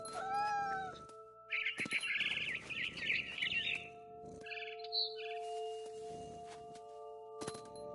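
A cat meows in a PS4 video game, with chirpy bird-like calls and a sustained musical tone running underneath; bursts of sound come and go over several seconds.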